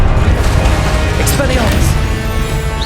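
A Confringo blasting spell goes off in Hogwarts Legacy, a burst of crashing impact within a dense, steady wash of game noise and music lasting the whole moment.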